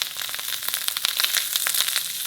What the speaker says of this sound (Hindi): इसे हम थोड़ा सा फ्राई करेंगे